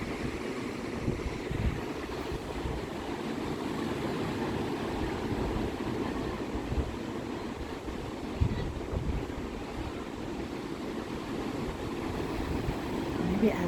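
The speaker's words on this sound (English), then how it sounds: "I just want everyone to listen to the waves and the happy, playful kids a little bit," Ocean waves roll steadily onto a beach, a continuous broadband wash of surf with soft swells and no clear breaks, mixed with some wind noise throughout.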